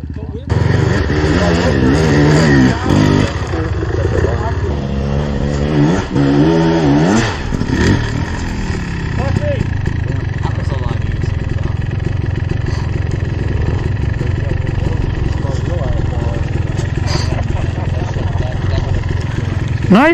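Motorcycle engine revving hard as the rider pulls a wheelie on a group ride, a loud steady roar with rising pitch sweeps early on, while riders talk over it.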